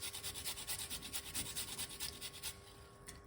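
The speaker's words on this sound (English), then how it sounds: "What we're going to do is grate the ginger, guys." A piece of fresh ginger is rubbed across a grater in quick, rhythmic rasping strokes, close and steady for about two and a half seconds before stopping.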